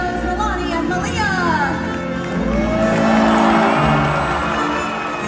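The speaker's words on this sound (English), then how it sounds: "I want to hear a huge cheer for our 2 females, Nilani and Malia" An audience at a SeaWorld Orlando killer whale show cheering and shouting loudly for the orcas, a dense crowd roar with whoops and children's shrieks swelling over several seconds, a voice faintly over it.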